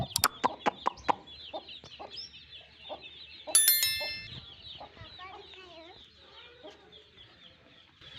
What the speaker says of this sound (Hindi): ये हमारी मुर्गी के चूज़े